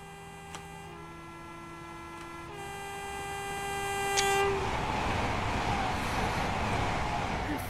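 An Azuma train rolls past with a rising rumble and roar, preceded by steady tonal hum and a brief high squeal, growing louder toward the end.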